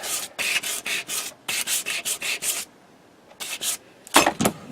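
Persimmon wooden golf club head being hand sanded, rhythmic bursts of close, scratchy rubbing strokes in quick groups separated by short pauses.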